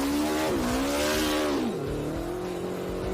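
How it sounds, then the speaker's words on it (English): A motorcycle engine revs hard and pitches up and down as the bike races through a burning tunnel of fire, loud and close with a roaring rush of flame-like noise. "the longest motorcycle ride through a tunnel of fire"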